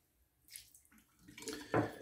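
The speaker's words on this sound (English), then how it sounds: "we are going to just kind of wring out the majority of that water" Water splashing and dripping from a Scally badger shaving brush squeezed out over a Fuji mug, a few brief wet bursts growing louder toward the end, close and alone.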